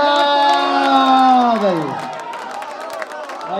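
An audience at an all-India poetry mushaira in Sangareddy cheers and applauds loudly, with a voice rising over the crowd noise before the din eases off toward the end.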